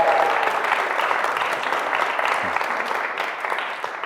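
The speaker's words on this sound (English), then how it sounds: "let's have a huge round of applause for our first headline act." Loud, sustained applause from a live audience greeting headline act Stephen England at a SPEAKup Challenge speaking event in Manchester; dense, even clapping throughout with no voices over it, easing slightly near the end.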